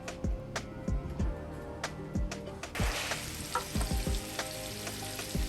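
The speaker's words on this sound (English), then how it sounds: "So we're going to saute them until they're golden brown or translucent" About a cup and a half of chopped onions sauté in a pan, with repeated ticking stirring strokes over a sizzle that swells louder partway through.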